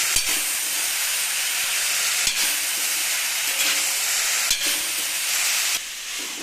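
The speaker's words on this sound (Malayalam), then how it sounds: "ഈ സമയത്ത് നമുക്ക് പരത്തി വെച്ചിട്ടുള്ള വഴുതന ഉണ്ടല്ലോ, ഇട്ട് കൊടുക്കാം. ഇട്ട് കൊടുത്തിട്ട് എല്ലാം കൂടി നന്നായിട്ട് മിക്സ് ചെയ്യാം." Brinjal stirred into sautéed onion in a frying pan gives a steady, loud sizzle and hiss throughout, broken by a few sharp spatula scrapes and clacks.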